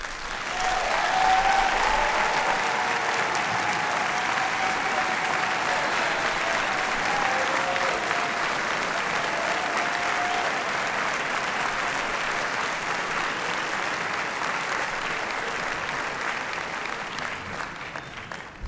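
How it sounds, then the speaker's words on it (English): Sustained applause from an inauguration audience honoring the First Lady of Morehouse College, a steady dense wash of clapping that holds evenly for nearly twenty seconds, with faint crowd murmur and brief tonal traces beneath. "I would like you to applaud the First Lady of Morehouse College"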